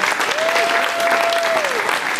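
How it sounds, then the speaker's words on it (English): Steady, dense applause from a crowd at a political rally, continuous clapping throughout with a faint whistle-like tone rising through the middle. "Give them a big round of applause."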